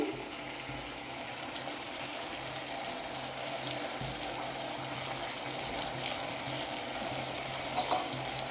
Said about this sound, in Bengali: ভেজে রাখা চিংড়িগুলো দিয়ে দিচ্ছি।